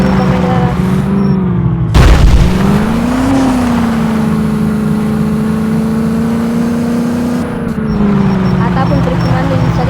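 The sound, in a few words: modified Mahindra Scorpio drifting off-road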